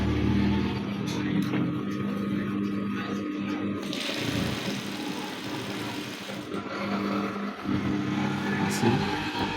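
Sewing machine stitches a straight skirt's lining to its fabric, a steady close mechanical whir that pauses briefly and resumes, under a person speaking.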